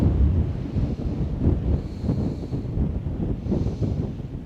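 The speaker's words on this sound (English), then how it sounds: "The wind is picking up." Wind gusting outdoors buffets the microphone with a continuous low rumble that swells and eases, loud and close, with no voices.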